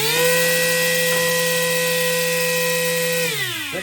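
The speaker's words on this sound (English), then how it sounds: "Moving up to the 9-inch 3D printed 3-bladed propeller." A hobby RC motor spins a 9-inch 3D-printed three-bladed propeller on a thrust test stand, giving a loud, steady high-pitched whine with a strong buzzing tone that holds even, then winds down near the end.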